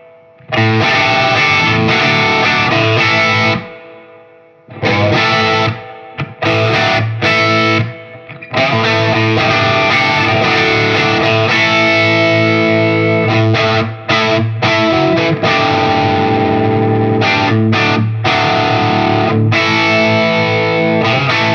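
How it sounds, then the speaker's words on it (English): A Les Paul electric guitar plays a heavy, heavily distorted riff built on a massive five-string chord, loud and sustained with short choppy breaks between the ringing strums and no talking. "the complexity of a Les Paul's harmonic range by playing at least five strings at once for one massive chord, it really pays off, gives you a huge tone"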